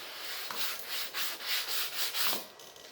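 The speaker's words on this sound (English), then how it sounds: "Get these 3M sanding blocks at Lowe's or Home Depot. Good for sanding big areas." A 3M sanding block rubbed over filler on an F-86 model jet: quiet, close, rhythmic back-and-forth scraping strokes, about seven in a row, each a soft gritty swish.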